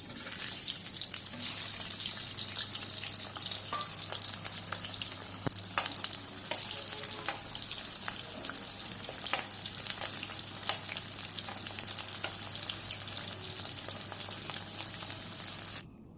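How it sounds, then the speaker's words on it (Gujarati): Onions frying in a pan, the first step of a Mehsana-style onion curry: a loud, continuous close sizzle with scattered crackles and stirring scrapes, lasting until it cuts off abruptly at the end, with no voices. "તો સૌથી પહેલાં આપણે ડુંગળી ફ્રાય કરી નાખશું"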